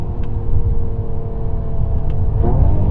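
A Mercedes E53 AMG coupe with a multi-clutch 9-speed transmission rumbles along with a steady engine drone, then a quick rise in revs near the end as it downshifts, heard close and loud without talk.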